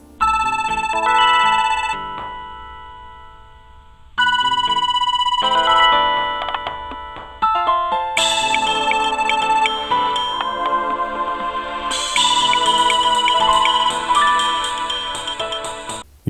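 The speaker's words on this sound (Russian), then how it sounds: "предлагается выбрать для него персональную мелодию сигнала из 23 ярких полифонических рингтонов." A Siemens Xelibri 7 mobile phone plays a polyphonic ringtone, a bright synthesized melody of clear electronic notes in short phrases with brief gaps, loud and close with nothing else heard.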